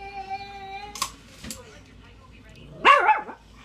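Household dogs bark and yip in short, sharp bursts with a higher whining cry near the end, close by, mixed with a sustained tonal sound and human voices.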